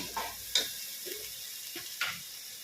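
Onions sauté in a pan with a soft, steady sizzle, broken by a few sharp scraping stirs of a spoon against the pan.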